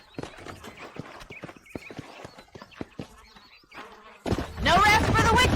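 Horse hooves clip-clop in the Red Dead Redemption video game, a run of sharp, irregular knocks under background noise, ending in a loud burst of neighing and clatter.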